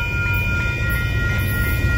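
A northbound BNSF grain train rolls past at close range, its steady, loud rumble of rail cars continuous and unbroken with no voices over it.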